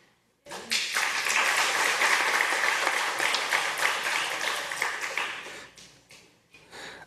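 A church congregation breaks into warm applause during a Sunday service, the many-handed clapping starting abruptly, holding steady for several seconds, then thinning out and fading.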